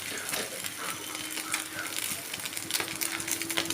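Food sizzles in a pan as it is browned before being flipped, a dense crackling hiss with light stirring and clinks of a utensil against the metal throughout.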